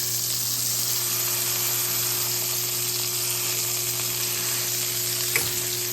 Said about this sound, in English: It's not caramelizing, but it's getting a really, really good sear